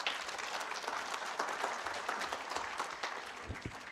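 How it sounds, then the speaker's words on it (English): An audience at a health integration summit applauds, a steady, even burst of many hands clapping for about four seconds with no pauses. "Let's give him another round of applause"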